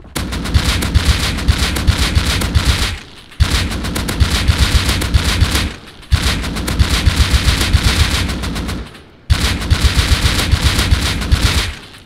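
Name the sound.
AK rifle gunfire without muzzle boost in video game Rust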